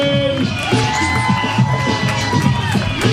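A comedy show audience cheers and whoops as the host and MC, John Bunyan, is welcomed to the stage. The crowd noise is loud, close and continuous, with overlapping shouts and babble.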